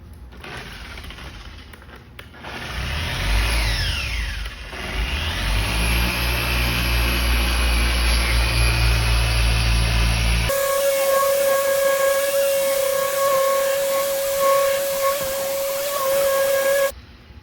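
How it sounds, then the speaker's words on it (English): A car polisher running with medium cut compound spins up, then holds a loud, steady, high-pitched whirring whine with a hissing edge that continues for many seconds before cutting off abruptly. "And that's the polisher with our medium cut compound."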